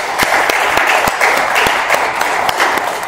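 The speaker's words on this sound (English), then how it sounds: "Let's give one more round of applause for them." Applause from an audience at an AA speaker meeting, a steady broadband patter of many hands clapping with a few sharper claps standing out, fairly close and continuous throughout.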